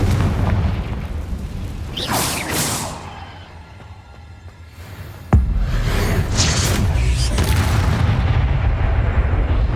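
The explosive Confringo spell goes off in the Hogwarts Legacy video game. A sharp crack is followed by a loud, rumbling boom, and a sustained roaring blast continues after it.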